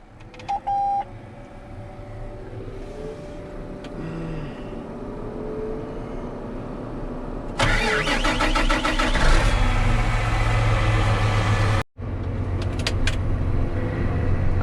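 A truck engine cranks over and catches, then runs loudly and steadily close by, with a brief beep near the start and a sudden cutout near the end before running resumes; the truck has just suffered a hydraulic fluid blowout.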